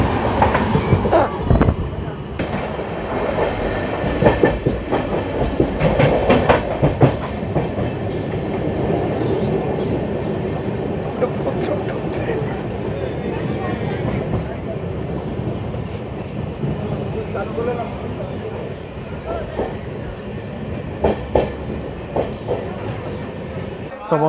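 Onboard the Tambaram–Santragachi Amrit Bharat Express as it runs near Bhadrak: a loud, continuous rumble of carriages with repeated clickety-clack from the wheels and occasional sharp knocks and rattles throughout.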